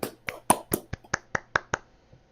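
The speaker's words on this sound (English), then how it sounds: "Thank you for clapping, and that makes me happy." A small round of applause, about ten distinct close claps in a steady, slowing rhythm, crisp and evenly spaced before fading out.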